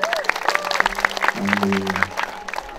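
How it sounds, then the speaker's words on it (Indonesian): An audience claps at a gathering after a song cover, scattered mixed applause under a talking voice, with a musical tone sustained partway through. "Tepuk tangan dong."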